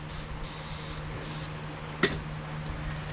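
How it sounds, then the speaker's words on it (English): Lubricant sprayed onto the stones of a cylinder hone in a 1967 Ford Mustang engine block, a single short hiss close by over steady shop background hum. "I'm closing the hone up, and I'm spraying the stones down."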